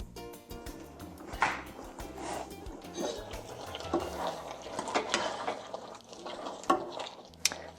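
A spoon stirs a pot of vegan black bean chili, giving irregular clinks and scrapes against the pot over a soft bubbling background, fairly close and with no talking.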